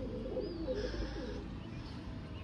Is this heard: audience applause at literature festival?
no